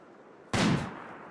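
A single sharp gunshot fired at a rat in the colony-simulation game Rimworld: one abrupt, loud burst with a short decaying tail, nobody talking.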